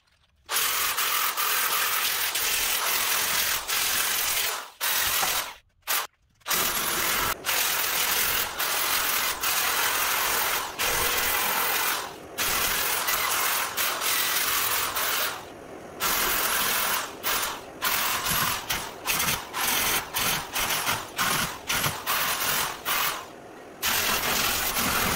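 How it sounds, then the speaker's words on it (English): Grinder grinding down a rough weld on a classic truck fender, a loud continuous high whine running almost throughout with several brief pauses and restarts. "I think I'll kind of grind this ugly weld down a little bit."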